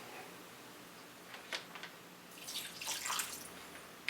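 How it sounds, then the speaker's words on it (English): Worcestershire sauce pours onto venison strips being prepared for jerky, a soft wet splashing and trickling that builds over a couple of seconds, close and fairly quiet, with no voices. "Now we'll pour in our Worcestershire sauce."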